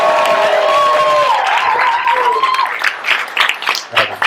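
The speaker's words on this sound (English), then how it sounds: "everybody's going to give you a big round of applause" Audience applause breaks out at a summer talent show, scattered claps building near the end, heard under a presenter's continuing voice.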